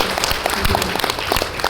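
An audience at a village government training opening in Luwu Timur claps in a short, steady burst of applause with no talk over it.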